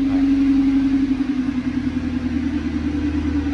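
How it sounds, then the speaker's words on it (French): Audi R8 engine idling steadily with its exhaust valve closed, a close, continuous low rumble with a strong steady hum and no revving. "ce sera un démarrage d'origine, donc valve fermée normalement"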